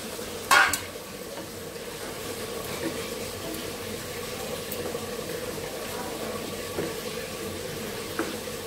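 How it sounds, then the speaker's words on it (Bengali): Meat sautéing with a splash of water in a pan, a soft steady sizzle and bubbling with a sharp clatter of stirring near the start and a few faint clinks, quiet and close. "পানি দিয়ে কষানো হচ্ছে।"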